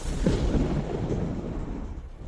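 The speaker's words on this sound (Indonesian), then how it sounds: "Guntur pemusnah dunia." A thunder spell effect from a fantasy story rolls out as a deep, rumbling boom that swells at once and then fades slowly over about two seconds, with no talking.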